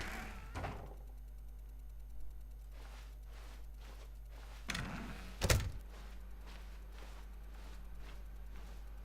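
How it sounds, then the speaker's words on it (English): A door in the video game The Stanley Parable gives a few soft thuds and one sharper knock-like bump over a low, steady background hum. "When Stanley came to a set of 2 open doors, he entered the door on his left"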